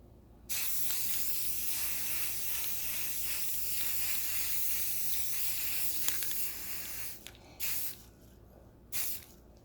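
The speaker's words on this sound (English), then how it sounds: "So let me grab the spray paint." Spray paint hissing from a can onto a tumbler, one long continuous spray of about seven seconds followed by two short bursts, close and steady.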